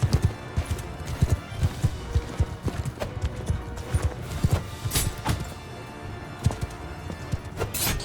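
Horse hooves in the medieval battle game Mount & Blade II: Bannerlord clip-clop in a steady, loud, close rhythm as horses run, with a brief neigh and no talking.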